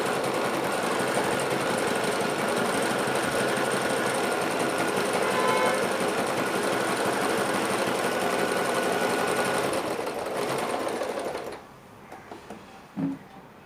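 Singer 1306 sewing machine stitching fabric, a steady rapid rattling hum running continuously for about eleven seconds before slowing and stopping, followed by a soft click.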